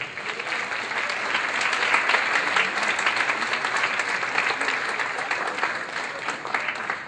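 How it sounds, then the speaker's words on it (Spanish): Conference audience applauding a speaker, thick continuous clapping from many hands that swells slightly and holds steady for several seconds, with no voices over it. "Un aplauso, por favor."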